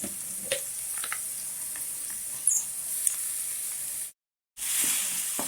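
Curry leaves, turmeric and ginger garlic paste frying in hot oil for paneer butter masala, a steady close sizzle and hiss with faint stirring clicks, cut by a brief silent gap near the end.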